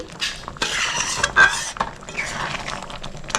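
A metal spoon scrapes and clinks against a pot while ghee is stirred into moong dal cooked with bottle gourd, bitter gourd and drumsticks, giving irregular close clatters and a soft, wet stirring texture.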